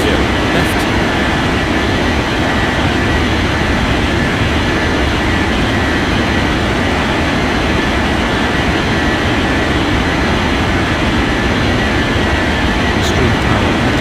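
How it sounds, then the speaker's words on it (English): A jet airliner takes off from runway 30 left in the game Unmatched Air Traffic Control, a loud, steady engine roar that holds at an even level from start to finish. "Astro 6463, cleared for takeoff runway 30 left."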